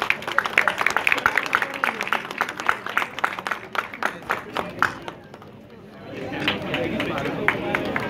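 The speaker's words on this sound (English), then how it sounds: "A big round of applause for all of them" An audience applauds honoured students at an institute ceremony in Noida: dense, steady clapping from a crowd that fades briefly, then resumes more softly with background chatter.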